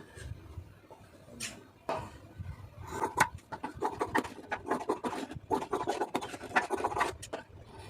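Scissors snipping and rasping through blouse fabric along a drawn armhole curve for an 11-inch sleeve lining blouse, a string of close, quiet cuts and scratchy rubs with short pauses, no talking.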